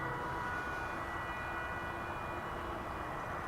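An aircraft landing at DFW airport on a flight from San Luis Potosi, heard as a steady broad engine roar with faint whining tones, continuous and even in loudness throughout, with no talking.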